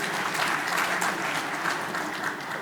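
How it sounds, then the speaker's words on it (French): An audience applauds at an agricultural convention signing ceremony, steady dense clapping from a crowd that holds at an even level throughout without any voices. "aussi sous vos applaudissements, Si Jawed Bahji."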